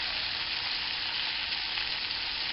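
Liver browning in a hot frying pan gives a steady, close, even sizzle and crackle of frying that holds without pause for the whole short stretch, with no voices.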